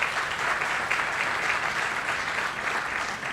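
An audience at a mental health talk on schizophrenia breaks into steady, dense applause, a continuous wash of clapping that holds an even level from start to finish with no voices on top.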